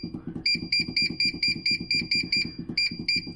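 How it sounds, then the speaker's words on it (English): An ultrasonic cleaner filled with warm water gives a quick run of short, high, evenly spaced electronic beeps, each paired with a low rhythmic pulse, all close and fairly loud. "Lovely beeping noise"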